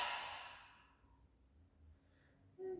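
A deep breath exhales in a slow, soft rush that fades out over about a second, heard during a guided yoga relaxation. Quiet stillness follows.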